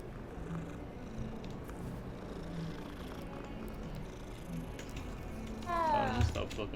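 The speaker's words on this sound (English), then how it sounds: "It's a cat." A cat purring in the video game Hogwarts Legacy, a soft continuous rumble under a player's talk, with a brief rising chirp near the end.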